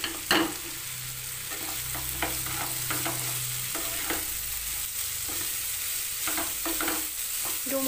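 Boiled figs fry with spice paste in a pan for a vegetarian Bengali recipe, giving a steady soft sizzle under repeated scraping strokes of a spatula throughout.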